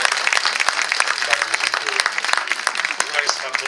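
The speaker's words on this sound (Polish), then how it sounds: "Także serdeczne brawa." A concert audience at a carnival concert of opera, operetta and musical hits claps in a dense, continuous burst of applause that stays loud throughout.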